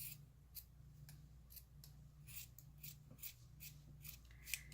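Quiet, close snipping of scissors cutting through sock fabric, a rapid irregular series of crisp blade snips over a faint low hum.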